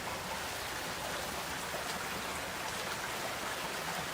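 Flash-flood water rushes steadily through heavy rain in Arizona, a dense, continuous roar of water and rainfall close by with no pauses.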